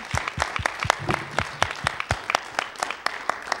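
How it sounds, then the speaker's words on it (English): Audience applause at a regional spelling bee, a steady patter of many hands clapping at moderate loudness for a few seconds, with no talk over it. "So please, a big round of applause for all of us remaining."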